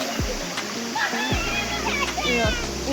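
Cold water splashing in a forest pool, repeated splashes and running water with children's voices chattering over it.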